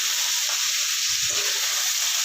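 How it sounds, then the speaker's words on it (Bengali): Bottle gourd and potato pieces frying in a pan with green chilli, stirred as they cook, give a steady close sizzle with a soft scrape of stirring partway through. "ভালো করে নাড়িয়ে নেবো"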